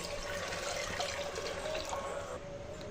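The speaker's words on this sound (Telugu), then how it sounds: "వాటర్ అయితే బాయిల్ అవుతా ఉన్నాయి చూడండి" Water boils in a pot for sorghum porridge, a steady close bubbling rush with a faint hum, even and unbroken throughout.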